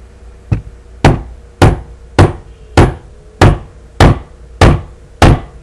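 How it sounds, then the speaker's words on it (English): A hammer taps a wooden pipe tenon down into place, nine sharp, evenly spaced knocks ringing out close and clear in an otherwise quiet room. "I'm going to grab my hammer."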